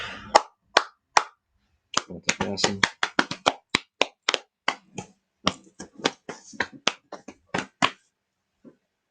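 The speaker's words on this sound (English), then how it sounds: "give thanks and clap our hands 3 times" Hands clap in a sequence of sharp, separate claps during a new moon meditation, recorded close in an otherwise quiet room, with short pauses between some claps.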